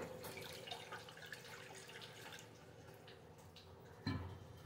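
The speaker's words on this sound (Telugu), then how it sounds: "కొంచెం వాటర్ పోస్తున్నాను." Water poured into a pot to boil soaked sago pearls (sabudana) for a festival prasadam, a steady trickling stream that continues throughout with a short louder splash near the end.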